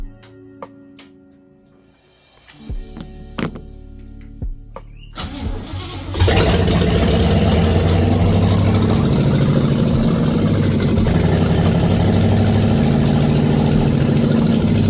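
A 1967 Camaro, unstarted for nearly 20 years, cranks after a few clicks and knocks, catches with a loud burst, and settles into a steady, rough, rumbling idle close by.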